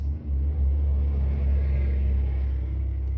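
A logging truck rumbles past nearby, a heavy low drone that swells briefly and holds steady for a few seconds, with no talk over it.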